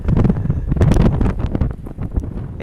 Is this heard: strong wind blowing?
yes